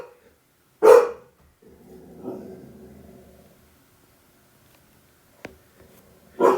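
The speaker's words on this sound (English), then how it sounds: "As you're listening to my dog bark while I do this" A dog barking indoors during a home math lesson: one sharp bark, a low muffled rumble or grumble after it, then a brief faint yap and a final bark near the end, separated by quiet gaps.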